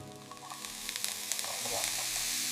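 Butter sizzles in a pan while cheese corn cooks, a steady close frying hiss with scattered crackles and light stirring scrapes, growing slightly louder toward the end.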